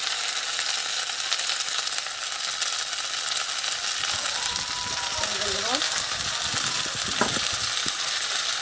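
Cumin paste and chili powder fry in a pan with browned onions for masoor lentil dal, a loud, steady hiss running throughout, with a few utensil scrapes and clanks near the end.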